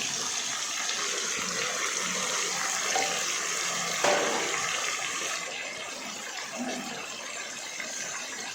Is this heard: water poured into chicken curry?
yes